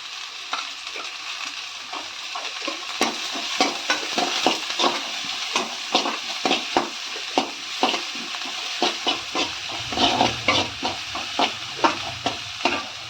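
Onion, beans and cabbage sautéed in a pan for a vegetable idli dish, with a steady soft sizzle and repeated scraping, stirring taps of a spoon against the pan throughout, close and moderately loud.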